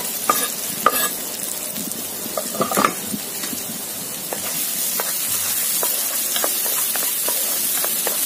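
Red peppers stir-fry in a hot pan for Chinese-style crispy chilli garlic prawns, giving a continuous bright sizzle with a few utensil clinks and scrapes near the start.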